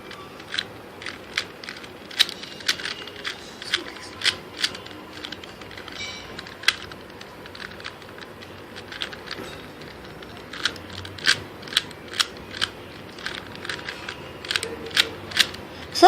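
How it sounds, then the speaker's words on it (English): A Mofangate 2x2 puzzle cube being twisted and scrambled by hand, giving a quick series of light plastic clicks in uneven bursts across the whole stretch, with brief pauses between runs of turns. "to solve a cube you first have to shuffle it"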